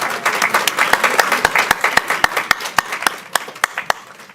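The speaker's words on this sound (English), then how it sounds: "let's give one last round of applause for all of our therapy dogs and handlers" An audience at a university therapy-dog ceremony claps in a round of applause, close and fairly loud, with a few sharp individual claps standing out from the general patter.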